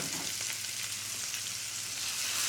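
Italian sausage and vinegar peppers sizzle loudly in a pan after pickling juice from the pepper jar is added, a steady bright frying hiss with crackle throughout and no talking.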